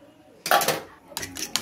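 Eggs, onion and pepper mixed for an omelette, a utensil clattering and scraping against a bowl in two brief bursts, with a quiet gap between them.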